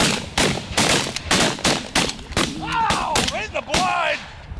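Shotgun blasts during a Michigan goose hunt, a rapid volley of about ten loud close shots, with geese honking between them and brief shouting.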